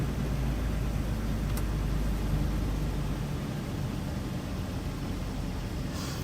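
Blower motor on a Toyota Tacoma pickup runs on its low setting with the truck started, giving a steady, even whooshing hum of rushing air that holds constant throughout.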